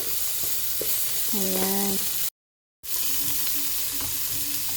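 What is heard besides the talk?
ginger sautéing in a pan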